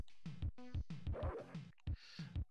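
A dog in a video game barks in a string of short, sharp woofs and yips, close and loud, with brief pauses between bursts and no talk over it.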